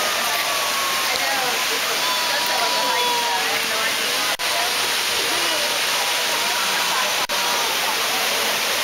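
The big waterfall at Ash Cave in Hocking Hills pours into a large horseshoe-shaped grotto, a loud, continuous roar of falling water that fills the whole clip.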